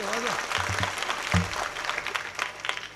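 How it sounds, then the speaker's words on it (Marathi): An audience at a Shiv kirtan religious discourse claps in a brief scattered burst, the applause fairly faint and mixed with a speaking voice. "असं खणखणीत टाळी वाजली पाहिजे."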